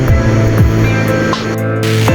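Haew Suwat waterfall at Khao Yai, heard from the base of the falls as a loud, continuous roar of rushing, splashing water that fills the whole clip.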